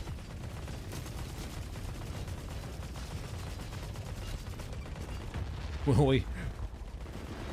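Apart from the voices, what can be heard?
automated turrets firing in the video game The Forever Winter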